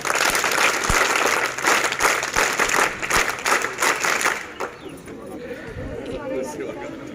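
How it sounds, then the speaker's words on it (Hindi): A group at a Scouts and Guides training day claps in welcome; brisk, dense clapping runs for about four seconds, then tapers into quieter room noise with murmuring voices. "स्वागत, ताली बजा।"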